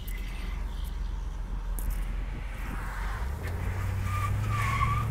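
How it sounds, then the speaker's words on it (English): A 1973 Ford Galaxie 500 hardtop peels out briefly, its tires giving a short rising squeal over the steady low rumble of the engine and road noise near the end of the run. "I'm not even stepping on the gas, and you heard I peeled out a little there"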